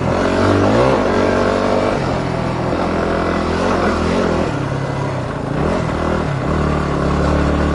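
A small motorbike ridden around a track revs up and down through repeated gear changes, its engine whine rising and falling loudly and close.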